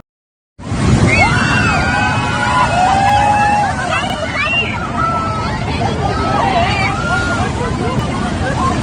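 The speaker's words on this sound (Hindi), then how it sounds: "देखा है सलाले का समंदर" Sea waves wash continuously at Salalah beach under strong wind rumble, with excited voices and shouting from people nearby over the constant surf.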